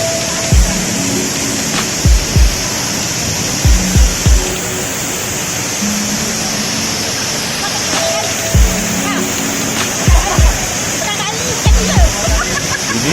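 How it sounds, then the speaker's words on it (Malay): A waterfall at Sungai Pisang gives a constant loud rushing roar, with repeated thumps and knocks rising over the water noise at intervals. "Ini adalah air terjun yang kedua."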